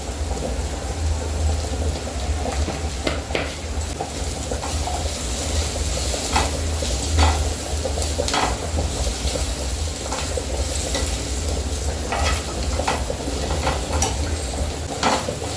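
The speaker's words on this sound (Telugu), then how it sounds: "చూడండి ఇట్లా మంచిగా ఫ్రై అయిపోయిన తర్వాత" Ingredients for mint chutney frying in a pan with turmeric, a continuous dense sizzle with a low rumble beneath and occasional stirring scrapes, close and steady throughout.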